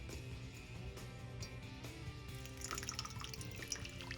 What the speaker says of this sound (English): pour about 1/3 of that water